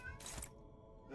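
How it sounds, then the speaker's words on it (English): A pet cat named Sandals gives a short meow, quiet and in the background, followed by near silence. "why are you meowing, Sandals?"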